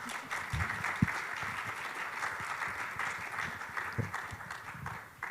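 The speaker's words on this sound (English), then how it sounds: "Can we clap for the panelists?" Audience applauding panelists at the end of a clinical trial budgeting discussion, a steady wash of many hands clapping together at moderate volume for several seconds with no talk over it.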